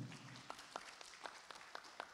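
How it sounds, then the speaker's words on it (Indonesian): Faint, sparse clapping at a school student-star final, with a few distinct claps landing in a loose rhythm over a quiet room. "Beri tepuk tangan yang meriah."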